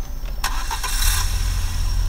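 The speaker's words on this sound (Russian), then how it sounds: "начинаем завести мотор" A VAZ car engine cranks and catches, then settles into a loud, close, rumbling idle for a couple of seconds with no talking.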